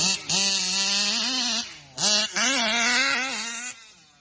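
Gasoline engine of an RC Baja car with a 50GT RC Max engine and WJ carburetor, buzzing loud and close, revving up and down in several bursts with brief dips between.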